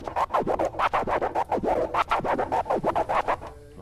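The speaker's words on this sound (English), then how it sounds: "There's like a baby into a two-click flare" Rapid DJ turntable scratching, a baby scratch into a two-click flare, a steady run of quick back-and-forth cuts with choppy clicks chopping the sound, loud and close with no voices.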